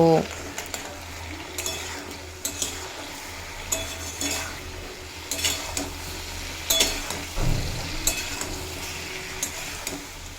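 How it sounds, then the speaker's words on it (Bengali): Potato and ridge gourd sautéed with cumin and Kashmiri chilli powder in a pan, a soft sizzle under intermittent stirring scrapes and utensil knocks, with a voice talking over it. "জিরের গুঁড়ো আর সামান্য কাশ্মীরি লঙ্কার গুঁড়ো দিয়ে খুব ভালোভাবে কষিয়ে নেব"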